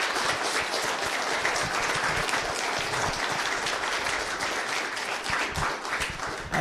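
Sustained, full applause fills a room honoring Senator Lamar Alexander, steady and loud throughout with no break.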